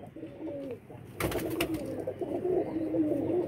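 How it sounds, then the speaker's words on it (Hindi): A pet pigeon kept by a pigeon fancier coos close by, a low soft warbling call repeated over a few seconds, with handling rustles and background room noise around it. "ये मेरे सामने कबूतर है"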